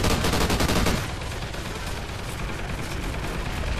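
Rapid video game gunfire erupts as everything is shot at once in Point of Contact chaos mode, a dense loud barrage of overlapping shots that continues without pause.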